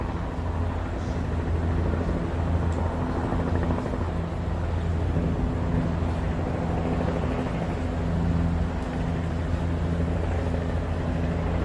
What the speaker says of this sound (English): And the helicopters up above.